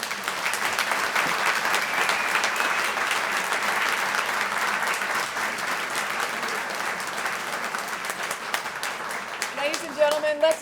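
Sustained audience applause at a spring luncheon celebrating women, a broad even wash of clapping from a large room lasting about ten seconds, with a voice breaking in at the very end.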